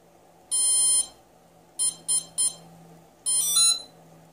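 A car ESC driving a 3-phase BLDC motor gives a beep sequence: a long tone, then three short beeps, then a final warbling tone, clear and electronic over a low steady hum.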